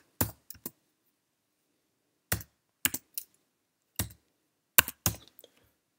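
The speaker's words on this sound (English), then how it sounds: "This will now require us to type in the password." Someone types a password on a computer keyboard: short bursts of crisp key clicks, a few keystrokes at a time, separated by quiet pauses, close and fairly faint.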